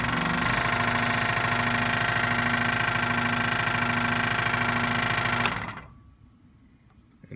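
A scroll saw runs at its quickest speed setting with a fast, steady buzzing clatter of the reciprocating blade, loud and close, then winds down to silence as the motor switches off.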